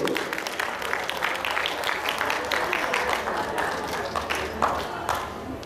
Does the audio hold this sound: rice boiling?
no